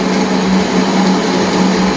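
A Meritor air brake camshaft being turned down on a lathe, giving a steady, continuous whine and hum that holds even and loud with no pauses.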